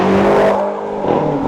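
Engine and exhaust of a 2020 BMW X5M Competition SUV, a loud, steady drone with harmonic bands that dips briefly midway and then swells again, heard close with no talking.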